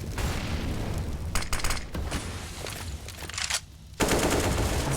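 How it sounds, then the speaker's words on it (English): A grenade bursts during a Counter-Strike match on the Ancient map, a loud boom at about four seconds cutting through dense rapid gunfire and scattered shots that fill the whole stretch. "Nice little nade thrown down."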